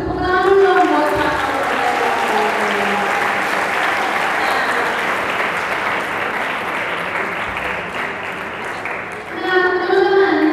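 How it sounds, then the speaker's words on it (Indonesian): Studio audience clapping at a talk show, a broad sustained wave of applause that swells and carries on for several seconds, with voices heard briefly at the start and again as it fades at the end. "terima kasih tepuk tangan dong buat Pak."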